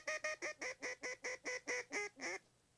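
A man imitates duck calls with a rapid series of about ten evenly spaced nasal quacks, loud and close, each sharp and buzzy, ending in a slightly longer final note.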